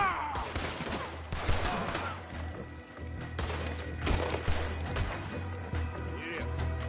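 Gunfire in the Red Dead Redemption 2 game during a chaotic chase, with scattered shots and bursts over a steady rumbling backdrop, moderately loud and continuous.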